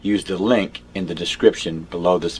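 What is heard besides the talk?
No everyday noise stands out behind the speech.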